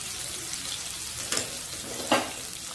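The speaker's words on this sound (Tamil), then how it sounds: "இப்போ நம்ம வெட்டி வச்சிருக்க வெங்காயத்தை சேர்த்துக்கலாம்." Sliced onion frying in oil in a pan, a low continuous sizzle broken by two brief louder scrapes or splashes as the onions are stirred, no speech.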